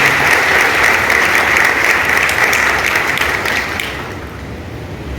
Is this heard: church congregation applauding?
yes